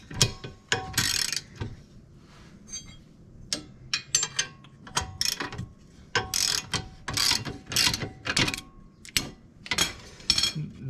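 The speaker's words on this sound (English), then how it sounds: "this Teardown long-handled half-inch ratchet I got is sure nice" A long-handled half-inch ratchet loosening suspension bolts during a car's rear suspension teardown, repeated bursts of sharp metallic clicking in uneven strokes, close and fairly loud, with pauses between pulls.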